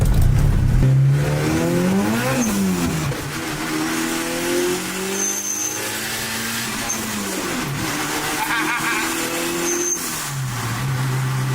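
A refurbished car driving with its windows closed, heard from inside the cabin: an engine rising and falling through gear changes over a muffled road rumble.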